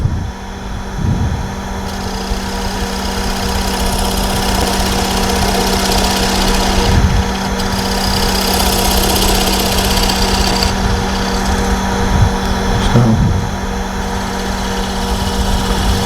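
A wood lathe cuts away the tenon on a wooden jar lid, giving a steady, loud machine drone with a few rougher scraping bursts as the tool crosses the piece.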